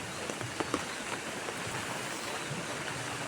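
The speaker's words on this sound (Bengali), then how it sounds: "কি বৃষ্টি হচ্ছে" Steady rain falls in a village, a dense, even hiss of drops striking surfaces with a few louder nearby patters, continuous throughout.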